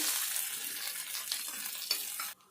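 Grated coconut and puffed rice fry in ghee with a steady, close sizzle and soft stirring scrapes, continuous for a couple of seconds before cutting off abruptly.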